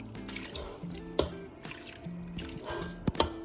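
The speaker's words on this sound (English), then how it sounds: "Added some water to the bowl that had the seasoning in it, and now I'm just gonna pour it in." Seasoned water poured from a bowl into a soup pot for Haitian soup joumou, a close, steady trickle and dripping splash running the whole time with a few sharper clinks, no voices.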